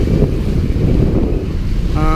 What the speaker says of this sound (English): Winds have really picked up.